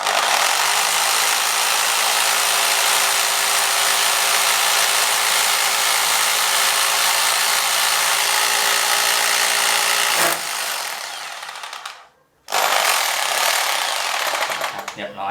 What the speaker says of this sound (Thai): วิธีการใช้สว่านโรตารี่เจาะปูนนะครับ